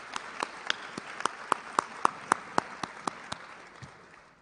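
Scattered applause from a small audience at a school scholarship and awards night, honoring graduating seniors: about a dozen distinct, fairly crisp claps spread evenly over several seconds, fading out toward the end.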